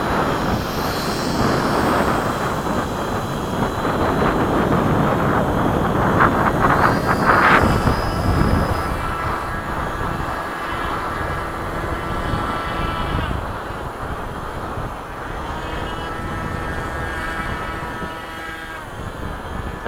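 Miniature B-17 model aircraft fly in formation at LFE, their small engines making a steady, continuous droning buzz that shifts slightly in pitch as the planes pass, with no voices.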